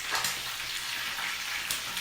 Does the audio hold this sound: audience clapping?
no